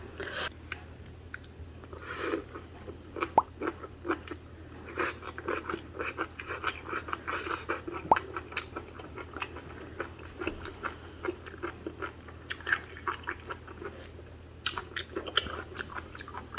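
Blanched amaranth greens chewed up close, a steady run of crisp, wet crunching bites with small clicks and mouth noises continuing throughout, with no talk.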